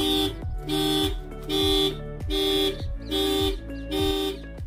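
A Tata Safari 2.2 VTT Dicor car alarm, warning of an unlocked door, chirps in a repeating pattern, about six evenly spaced two-tone electronic beeps with a low buzzing pulse underneath.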